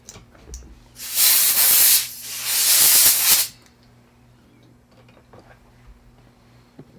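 Compressed air blasts through small Honda GCV manual-choke carburetor parts during a rebuild: two loud, sustained hissing bursts, each about a second long, with a brief gap between them, followed by quiet.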